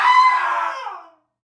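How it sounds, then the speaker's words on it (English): A single loud, high scream rings out for about a second, then cuts off abruptly into silence; it sounds synthetic, as if generated rather than recorded from a live person. "I dare you to scream"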